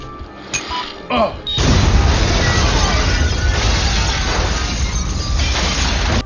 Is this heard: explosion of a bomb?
yes